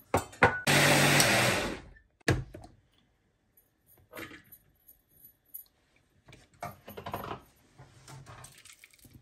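A mixer grinder whirs loudly in one short burst while blending fermented coconut water for toddy, then cuts off and gives way to scattered knocks, clinks and handling of the jar.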